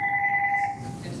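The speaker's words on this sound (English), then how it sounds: "I have to answer the phone" A telephone rings with a sustained electronic two-tone trill in a lecture setting, loud and alone, then cuts off into quiet room noise.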